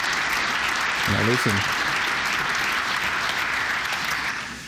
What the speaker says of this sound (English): I hope that's not the last bit of applause that I get